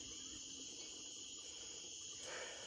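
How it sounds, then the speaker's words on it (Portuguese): Cicadas buzz outdoors in a steady, high, shimmering drone that holds level throughout, with a slight swell near the end and no talking. "Barulhinho das cigarras."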